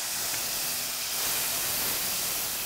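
Worcestershire sauce sizzles and evaporates in a hot pan with finely minced ingredients, a dense, loud steady hiss like steam that swells slightly midway and continues without pause or voices.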